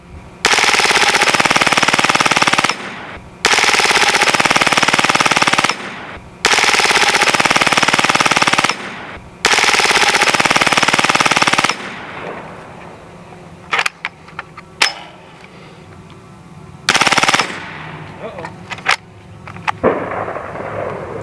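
A Hatsan Blitz .30 caliber air rifle firing full auto outdoors, four long loud sustained bursts of rapid shots separated by short gaps, then scattered single pops, clicks and one more short burst.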